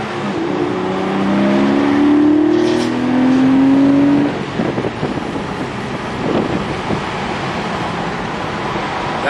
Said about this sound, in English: That's the Carrera Cup airbox that just made that additional engine sound over what you just heard moments before.